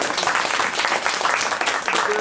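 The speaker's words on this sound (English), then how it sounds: "please give yourselves a round of applause" A live comedy show audience bursts into sustained applause, dense clapping filling the whole stretch at steady loudness, with a few cheers mixed into the crowd noise.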